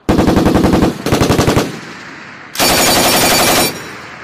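An M240B machine gun fires loud, close bursts in rapid rhythm: two short bursts back to back, a pause, then a longer sustained burst, with no talk over it.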